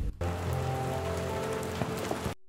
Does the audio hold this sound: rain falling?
yes